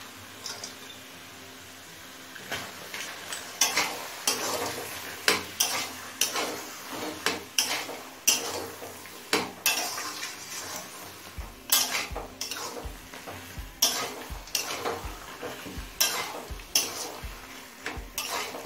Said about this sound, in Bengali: নারকেল আর বাদামটাও একই রকমভাবে সব কিছুর সাথে মিশিয়ে নিয়েছি।